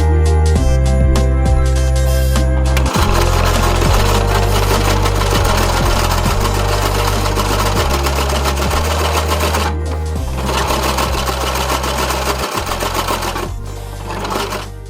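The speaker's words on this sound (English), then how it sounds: "Sew your top of your skirt with loose stitching." A sewing machine runs in fast, loud bursts while loosely stitching the top of a dollar-store bandana skirt, its rapid needle clatter pausing briefly twice and then resuming.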